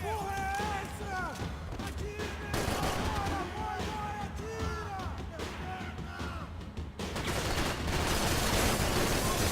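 Max Payne 3 gunfight with repeated gunshots and bursts of rapid fire over a busy, noisy background. Someone speaks briefly between the shots.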